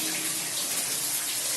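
Low-flow underground cave river, upstream section, pouring in a constant close hiss and gurgle that never lets up, no talking heard.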